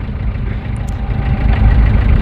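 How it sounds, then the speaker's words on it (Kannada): An old Ambassador car's engine running, a close, low, steady rumble that swells slightly toward the end, with no talking. "ಇಂಜಿನ್ ಸಖತ್ ಸಾಫ್ಟ್ ಆಗೈತಿ ನಮ್ಮದು."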